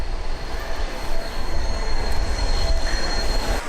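Train wheels squeal on a railway track with a loud rumbling roll and a thin high-pitched screech, continuous and close throughout, with no voices.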